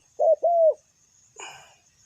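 A wild spotted dove gives a clear two-part coo close by, followed by a softer, rougher call, against otherwise quiet surroundings.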